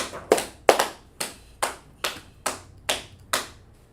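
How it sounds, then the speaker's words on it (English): A few hands clap in a classroom: eight separate claps, steady and fairly close, with the first two loudest and the rest evenly spaced, with no talk between them. "Clap it up for class."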